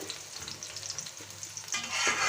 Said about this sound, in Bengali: পেঁয়াজটা একটু নরম করে নিলাম ভেজে